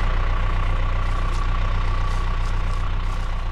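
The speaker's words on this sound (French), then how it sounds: "j'ai le tracteur qui tourne parce qu'on avance" A tractor engine idles and runs steadily close by on a farm during a vegetable harvest, a constant low rumble with a faint hum and no pauses.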